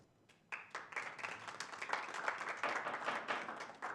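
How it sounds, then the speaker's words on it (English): At a town council regular meeting, an audience breaks into applause. It starts with a few claps, then swells into steady, dense clapping from a roomful of people that carries on throughout at moderate volume. "Please don't applaud."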